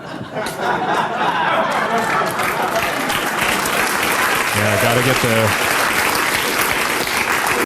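Audience applause at a first responder appreciation day event, a dense, sustained wash of clapping with some crowd chatter and laughter mixed in, loud throughout.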